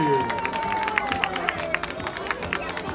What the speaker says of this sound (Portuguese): Para finalizar o nosso desfile, salva de palmas para Diamante